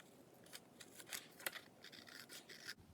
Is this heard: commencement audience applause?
no